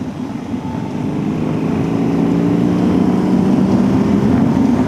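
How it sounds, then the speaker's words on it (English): A BMW R18 B motorcycle's big engine drones steadily while riding, a loud, low, continuous hum that swells slightly as it goes, with rushing wind noise over it and no talking. "The engine has so much character and so much going on that you are riding with that engine all the time"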